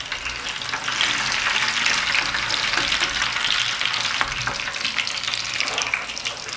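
Potato chapli kabab fries in a pan over low heat, making a loud, continuous, dense sizzle and crackle that holds steady throughout with no voices.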